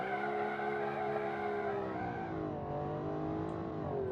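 A car with a nine-speed automatic gearbox driven in the game Automation, its engine humming steadily with a smooth harmonic drone that dips and rises slightly in pitch as it cruises, loud and continuous throughout.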